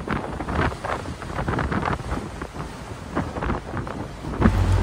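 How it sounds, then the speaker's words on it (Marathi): Strong cyclone wind batters a ship at sea, a loud, gusty roar that swells and buffets the microphone, with deep rumbling underneath and no talking. "बघा हवेचा वेग किती आहे तो, आणि हळूहळू हा वादळ शिपच्या दिशेने चालून येत आहे."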